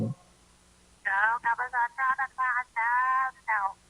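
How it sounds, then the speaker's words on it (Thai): A caller's voice comes through the telephone line on a Thai Buddhist dharma radio broadcast, with a brief host voice before it and then several segments of narrow, phone-band speech from the caller. "พอดีมีสายเข้ามาสายหนึ่ง"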